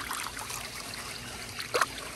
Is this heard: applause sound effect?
no